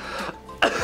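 Two harsh, close coughs burst out less than a second apart, loud and raspy, with no talking around them.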